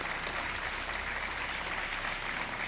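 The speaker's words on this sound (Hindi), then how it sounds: "तालियां इनके लिए।" Dense, continuous audience applause in a TV quiz show studio, a full wash of clapping that stays even and loud throughout its short span.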